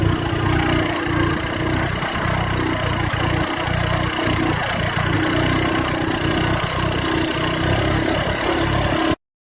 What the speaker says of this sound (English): connected the engine, now we're refueling, it has to be wrapped up in top, and now our crew is ready. So we're heading upriver